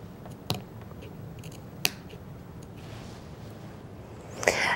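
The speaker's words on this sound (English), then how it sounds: "you can clip through the seam allowances there" Sharp scissors clip through the seam allowances of a pencil skirt, giving a few isolated crisp snips spread apart over quiet room tone, with a final cluster of snips at the end.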